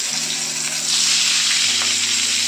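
Aubergine slices frying in hot oil in a frying pan, giving a steady, close sizzle with a bright crackling hiss that swells slightly partway through, alone without talk.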